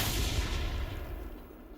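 Gunfire in an online video game, a dense rolling rumble of shots and booms that fades gradually over about two seconds, with no talking.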